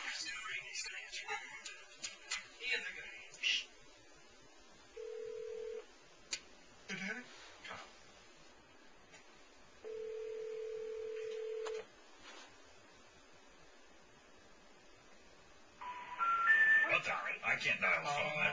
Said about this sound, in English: I can't dial the phone.